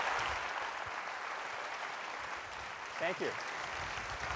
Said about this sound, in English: I think they're all afraid of your applause.